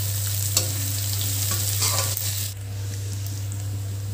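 Sliced rattan cane shoots fry in a pan over a low flame and are stirred, giving a continuous soft sizzle with scraping spoon strokes and a steady low hum underneath.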